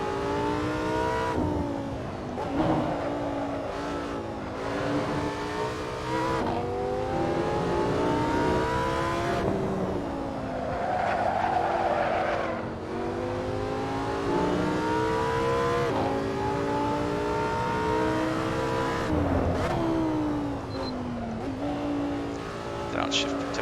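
Lamborghini Sesto Elemento engine revving in the Assetto Corsa racing game, a loud continuous engine note rising and falling through gear changes with sweeping pitch, a voice talking over it.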